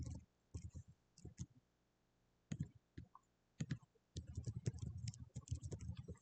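A password is typed on a computer keyboard in scattered bursts of quick, light key clicks with pauses between them, close and fairly quiet, growing denser toward the end.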